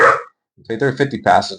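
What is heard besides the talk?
dog barking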